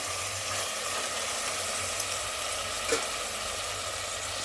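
Mutton pieces frying in oil in a curry pot, a constant close hiss and sizzle with a low burner hum beneath and a few faint utensil taps, no talking.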